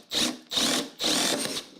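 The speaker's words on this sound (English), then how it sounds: "We'll do a screw in here without any pre-drilling to start off with." A screw driven into soft pine with no pilot hole, heard as three loud, grinding bursts from a powered driver, each about half a second long and separated by short pauses, close up with no voices.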